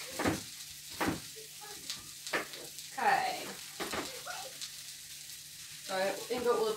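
Potatoes frying in coconut oil in a pan give a steady close sizzle with brief louder crackling bursts and a few scraping stirs, while a voice talks intermittently over it.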